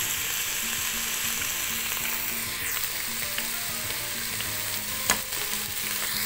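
Tomato paste frying on the saute setting of an electric pressure cooker, a strong steady sizzle up close with light stirring and one sharp clack near the end, no talking.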